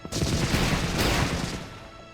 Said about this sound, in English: 3 Gatling guns aim at the harbor at a negative angle, firing 20mm armor-piercing rounds at 60 shots per second.